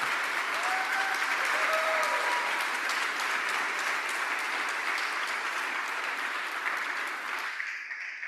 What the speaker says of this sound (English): Can we just have a round of applause for all our amazing finalists?